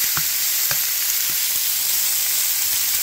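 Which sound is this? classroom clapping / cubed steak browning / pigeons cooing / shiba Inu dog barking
cubed steak browning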